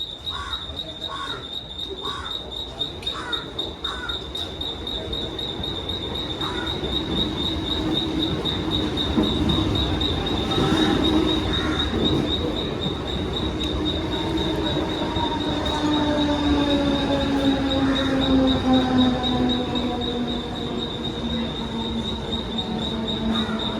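A train rumbles steadily nearby, wheels squealing and rails clattering, with a constant high whine running throughout.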